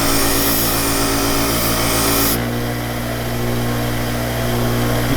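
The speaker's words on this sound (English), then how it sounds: "we're going to go back over to the bench grinder to our wire wheel and brush that burr back down" A bench grinder's wire wheel brushes the burr off a Wahl Arco clipper blade, a loud steady whine and hum that drops in pitch midway as the contact changes, continuing alone without talk.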